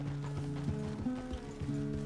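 Horse hooves clip-clopping in Red Dead Redemption 2, a steady run of hoof thuds over a sustained tonal background hum, with no talk over them.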